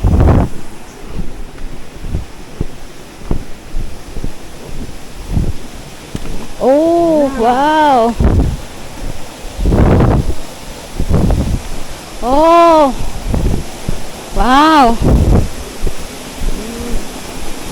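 Anyap Falls in Tanay, Rizal sends up a steady broadband rushing roar with gusty wind noise. People exclaim over it now and then.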